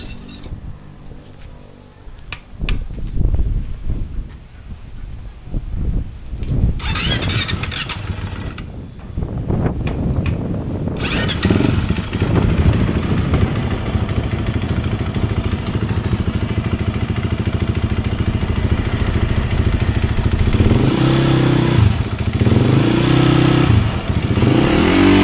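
A Husaberg 350cc motorcycle with an automatic Rekluse clutch cranks and catches, then idles and revs in steady bursts for over twenty seconds, loud and close with mechanical clatter and no talking.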